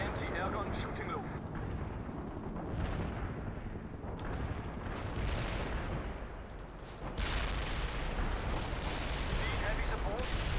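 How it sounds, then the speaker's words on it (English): An artillery barrage in the strategy game World in Conflict rumbles continuously with dense, overlapping booms and blasts, loud and sustained throughout, mixed with game voices speaking. "Barrage is on the way. Firing artillery."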